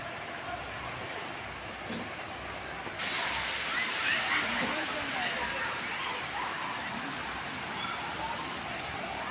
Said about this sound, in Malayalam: വെള്ളച്ചാട്ടത്തിൽ നിന്നുള്ള വെള്ളം ഇങ്ങനെ ഒഴുകി വരികയാണ്. അതൊരു പുഴ കണക്കി ഇങ്ങനെ ഒഴുകിപ്പോവുകയാണ്.